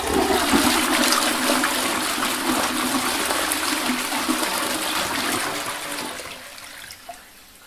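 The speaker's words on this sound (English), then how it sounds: "I'm going to flush you down the toilet." A toilet flushing close by, a loud continuous rush of gushing water that gradually fades into a trickle, ending with a small clunk.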